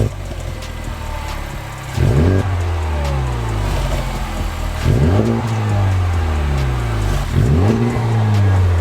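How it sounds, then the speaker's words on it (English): A Honda Civic Type R FK8 with an AWE exhaust revs three times in loud, close bursts, each rising sharply then falling back to a steady idle between pulls. "do the startup and then we get some stock revs"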